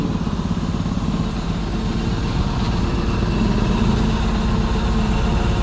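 A Hitachi EX120-3 excavator diesel engine, being troubleshot for low power and derating, runs steadily at a low, rumbling idle with a constant throbbing pulse, close and continuous throughout.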